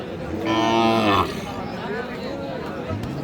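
At a busy cattle market, a cow lets out one long, loud, harmonic moo close by, with crowd chatter and hubbub continuing around it and a short low grunt near the end.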